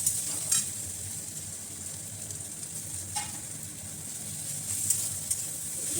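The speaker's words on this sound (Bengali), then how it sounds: "এবার একসাথে ভালোভাবে নাড়তে হবে" Ginger and garlic paste frying in a pan, a continuous hissing sizzle with occasional spatula knocks and scrapes as it is stirred, fairly quiet and close, no talking.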